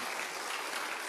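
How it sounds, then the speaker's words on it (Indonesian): A brief burst of crowd applause, dense hand clapping that fills the space evenly. "Tepuk tangan."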